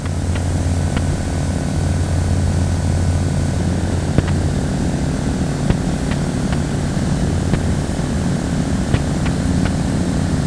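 Light aircraft in flight on a long trip toward North Cape, its propeller engine droning steadily and loudly up close, with a few faint clicks over the continuous hum and no speech.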